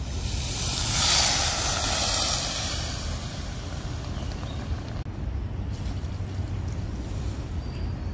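Water poured from a bowl into a kadai of sugar, three bowlfuls, to make syrup for rasgulla, giving a loud, steady broadband rushing wash that swells early and then holds.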